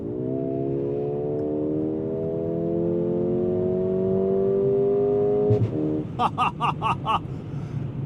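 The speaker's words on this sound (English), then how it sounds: "So I'll move into the Sport Plus drive mode, bypassing Sport entirely, and put my foot to the floor." A 2024 Mercedes-AMG CLA35 accelerates at full throttle in Sport Plus mode, its engine note climbing steadily and loudly, then an upshift followed by a rapid string of crackling overrun pops.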